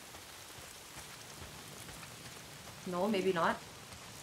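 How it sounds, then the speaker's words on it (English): Steady rain falls in the Days Gone video game, a soft, even hiss of drops on surfaces throughout, with someone speaking briefly near the end. "Why is it always raining?"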